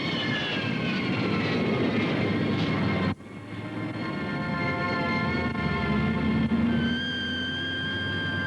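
A military jet engine spools down to idle, its steady roar giving way after a sharp drop to a lower whine with descending and shifting tonal lines, loud and close, with no talk.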